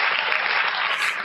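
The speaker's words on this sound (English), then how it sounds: "More applause for Claire." Applause for a guest at the close of an online talk session, a steady dense wash of clapping filling the whole short moment without a break, loud and close.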